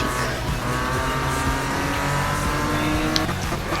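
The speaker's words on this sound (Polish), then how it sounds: "A teraz zobaczycie ile mój samochód umie jechać." A racing car engine in the Need for Speed video game drones steadily at high revs, with layered tonal whine and a brief squeal near the end, loud and continuous with no talk.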